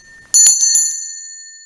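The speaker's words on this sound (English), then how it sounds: "Then we have two bells." A small secondhand bell, one of two, with a chip in its rim, rings with a sharp bright strike and a second quicker tap, then a clear ringing tone decays slowly; loud and close, no talk.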